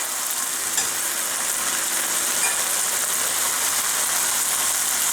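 Spinach risotto sizzles steadily in the pan as a ladle of stock goes in, a loud, even hiss that runs unbroken from start to finish with no talking.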